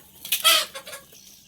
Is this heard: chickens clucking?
yes